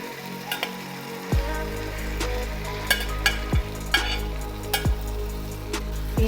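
Chicken pieces fry in spiced masala and oil with a steady close sizzle, broken by repeated stirring scrapes and clinks of a spoon at an uneven rhythm, no voices.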